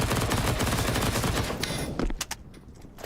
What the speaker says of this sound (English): SMG shots find no damage